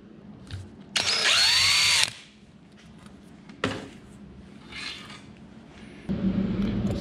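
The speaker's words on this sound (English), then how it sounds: "So I'm going to drill out another 2" A power drill bores holes for magnets in an early prototype, sounding as a loud, sustained high whine for about a second, then a short burst, then a lower steady grind toward the end.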